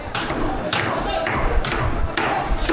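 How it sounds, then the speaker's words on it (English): Whole fish slammed down on tables in a busy fish market, giving loud repeated thuds at irregular intervals over a noisy, crowded hall with people talking. "It's so loud in here because they're banging the fish on the table."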